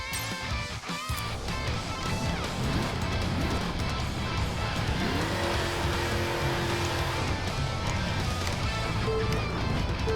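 A race car engine revs hard and steadily in The Crew Wild Run, the pitch rising and dropping as gears shift, loud and continuous, with a short burst of rougher noise near the start.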